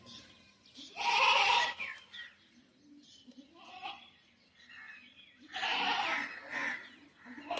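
A goat bleats loudly and close by in two drawn-out bursts separated by a few seconds, with quieter rustling and faint background calls in between.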